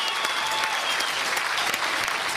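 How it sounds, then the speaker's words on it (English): A crowd at a poker tournament gives a warm ovation, with dense, sustained clapping that stays loud and even throughout and has no talk over it. "gets a nice ovation from the crowd"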